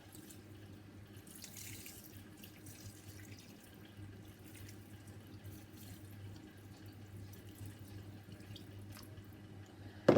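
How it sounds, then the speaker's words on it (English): Stock, a litre of it, pouring steadily into a pan of risotto rice, a continuous soft liquid splash heard close and alone for about ten seconds, ending with a brief louder clatter. "Then my litre of stock."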